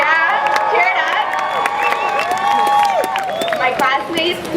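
A high school graduating class of 2013 cheers as a loud, dense crowd, with whoops, shouts and high voices layered over sustained roaring applause throughout.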